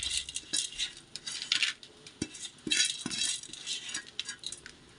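Washed, well-drained rice is tipped into a cooking pot, giving a dry pattering rustle with clinks and scrapes of metal in bursts over several seconds, close by and with no talk.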